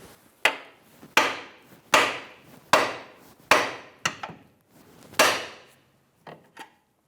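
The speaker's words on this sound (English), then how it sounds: "Take yourself with a hammer and you're going to hit the outer knuckle right there and jolt that up" Hammer striking the outer steering knuckle of a 2009-2014 Nissan Maxima during front CV axle removal, seven sharp metallic blows with ringing decay, evenly spaced and close.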